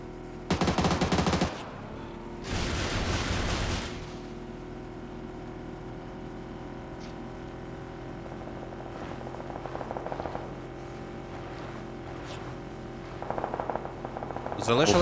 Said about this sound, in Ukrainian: Попереду стріляють